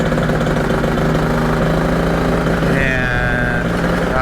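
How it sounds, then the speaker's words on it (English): Aircraft motor running steadily at about quarter throttle, heard from directly in front: a loud, continuous mid-pitched drone with a constant firing rhythm and a faint whine entering near the end. "I am facing the motor. About a quarter throttle right now."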